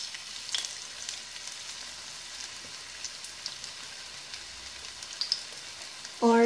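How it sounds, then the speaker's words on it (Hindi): Marinated Lahori-style spiced fish fries in preheated oil with a faint, steady crackle, then a sudden loud sizzle bursts up near the end. "इसके अंदर अब हम मैरिनेट किए हुई फ़िश को ऐड करेंगे।"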